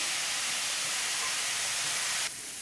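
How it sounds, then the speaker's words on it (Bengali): Soy chunks, squeezed dry, hit hot oil in a pan with vegetables and give a loud, steady hiss that eases off near the end, with no voices. "সয়ানগুলো নিচুড়ে আমি ওটা দিয়ে দিচ্ছি, তেলের সঙ্গে ভালো ভাজা হবে বলে।"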